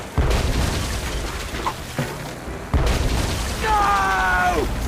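Cannon fire and explosions in the Tales of Monkey Island adventure game: several heavy booms strike in succession amid a loud, busy scene, with a character speaking over the blasts.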